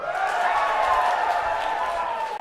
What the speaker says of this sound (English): now cheer if you think samosa is better